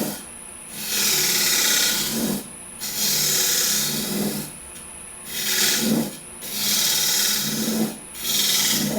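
Wood turning on a lathe, a cutting tool peeling hot shavings off a spinning workpiece in repeated passes of loud, close scraping hiss separated by brief pauses.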